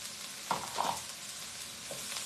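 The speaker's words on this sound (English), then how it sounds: "So in here we are going to add a little more oil, a little more garlic" Garlic and a little extra oil sizzle in a pan for Indian Chinese cooking, a steady close crackle with two brief brighter bursts near the start.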